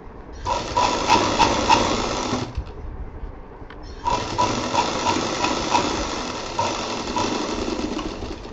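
A sewing machine stitches a shiny bag in two steady motorized runs, with a brief pause between them, close and fairly loud with no talk.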